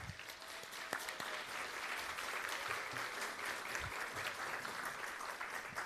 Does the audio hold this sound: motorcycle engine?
no